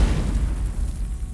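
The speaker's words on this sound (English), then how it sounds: "there is a massive, loud thud as the door is pushed open" A heavy door swung open indoors in an Icewind Dale game session gives one deep, loud, rumbling thud that fills the low end and lingers for over a second, with no talk over it.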